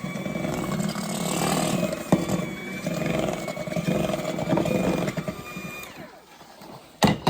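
A steady, loud motorized whirring of an electric mixer whipping a thick peanut butter mousse, running continuously before cutting off near the end.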